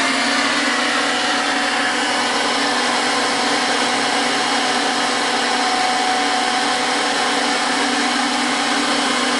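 A gasifier test rig's vacuum blower runs steadily and loud at close range, a continuous whirring motor hum with a strong low tonal drone and broad hiss, unchanging throughout with no talking.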